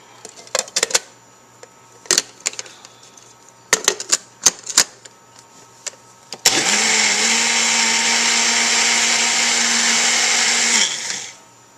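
A few sharp clicks and taps come first, then a countertop blender roars loud and steady for about five seconds as it mixes Jell-O and honey for a homebrew batch, before it winds down.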